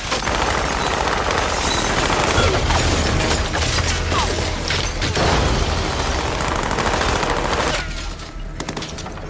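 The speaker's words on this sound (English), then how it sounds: "Lloyd's men arrived at her place, releasing heavy gunfire" Heavy gunfire in a film action scene as armed men open fire on a house, dense overlapping bursts of automatic weapons rattling continuously and loudly for most of the stretch before thinning near the end.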